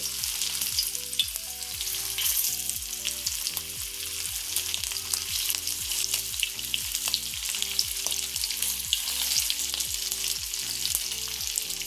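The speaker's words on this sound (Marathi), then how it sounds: "मी आता गॅस बारीक केलाय आणि त्यामध्ये हे फिशचे तुकडे घालतीये।" Steady, loud sizzling of fish pieces frying in hot oil in an iron pan over low flame, continuous crackle throughout with a faint rhythmic low thumping underneath.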